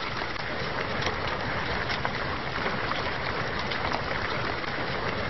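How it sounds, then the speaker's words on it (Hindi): Steady, dense hiss of rain falling continuously, evenly loud throughout with no pauses. "एक बार फिर उसी तरह बारिश हो रही है।"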